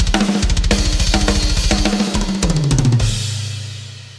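Programmed GGD Invasion drum kit with toms nudged slightly off the grid, a dense, loud full-band pattern of rapid kick and snare hits ending in a descending tom fill and a ringing cymbal-crash tail.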